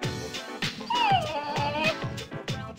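A dog in Persona 3 Portable whimpers in a few rising, whining yelps over a rhythmic background beat, close and moderately loud for a couple of seconds.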